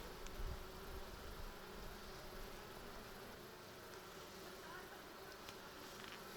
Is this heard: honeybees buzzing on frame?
yes